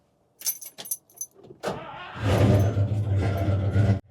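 Keys jingle and a few clicks come first, then a car engine cranks and catches, settling into a loud, steady running rumble close by before cutting off abruptly at the end.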